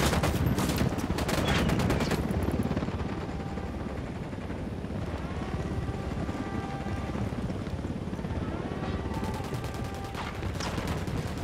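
Loud gunfire bursts in the Ghost Recon Wildlands video game, rapid machine-gun fire at the start and end, with a helicopter's steady rotor thrum running throughout between the volleys.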